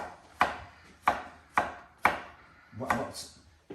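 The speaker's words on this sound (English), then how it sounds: "And then slice up your cucumber." A cucumber sliced with a knife on a chopping board, five crisp, evenly spaced chops close up, each a sharp knock with a short crunchy tail, no talking.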